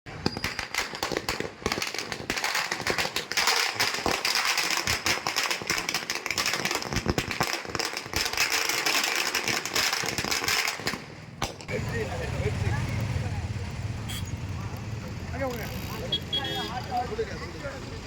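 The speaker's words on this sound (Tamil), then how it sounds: "மலை செல்வம், குணால், கார்த்திக் மற்றும் பலர் வெடிவெடித்து பொதுமக்களுக்கு இனிப்புகள் வழங்கி கொண்டாடினர்" Firecrackers crackle in dense rapid bursts at a fans' street celebration on a bypass road in Tirunelveli, loud and continuous for about eleven seconds, then giving way to quieter crowd noise and voices.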